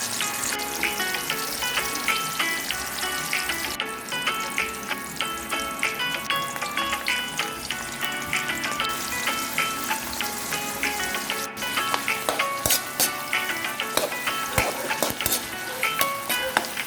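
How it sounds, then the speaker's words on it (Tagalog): Garlic, onion and ginger sautéing in a pan for miki guisado, a continuous crackling fry with repeated utensil scrapes and clinks against the pan, close and fairly even throughout, no voices. "magsisimula na po tayong magisa ng bawang, sibuyas at luya"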